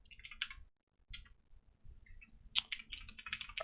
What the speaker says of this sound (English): Let me go ahead and start typing.